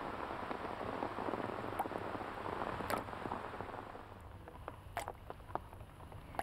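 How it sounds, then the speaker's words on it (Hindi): Rain falls steadily as a quiet, even hiss, with a few sharper drop taps scattered through it. Nothing else is heard. "बरसात अपने साथ लाती है नमी, पानी"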